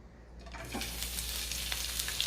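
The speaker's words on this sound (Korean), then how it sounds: "이렇게 해서 파 기름을 내보도록 하겠습니다" Chopped green onions sizzle in hot oil in a frying pan, making a continuous close bright crackle with no voices.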